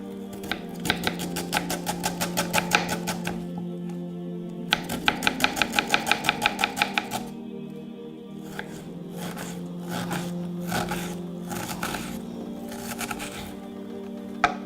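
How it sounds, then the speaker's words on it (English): An onion finely chopped with a knife on a board, fast runs of sharp rhythmic taps in two quick bursts, then softer scattered cuts over a low steady hum. "I'm going to chop my onion finely."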